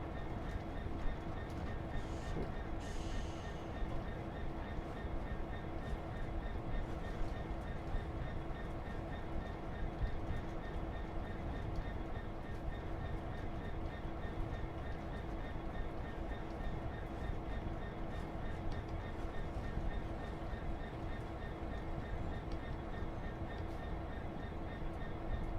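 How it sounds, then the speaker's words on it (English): Passenger train carriages rumbling steadily through a rail sim in Train Sim World 2, a continuous low rolling drone with faint track noise and no talking. "Feel the shunt of the flipping carriages from behind"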